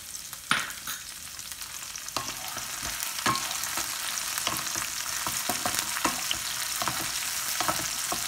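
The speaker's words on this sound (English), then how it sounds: "Now add chopped carrot or gajar and boiled peas or uble hue matar." Chopped carrot and boiled peas fry in a pan with a steady close sizzle. A spoon stirs through them, making repeated sharp scrapes and taps against the pan. No one speaks.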